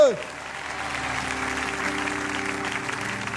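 Church congregation applauding, a broad, steady wash of clapping hands from many people that rises after a brief opening tone and continues evenly, with a sustained musical drone underneath.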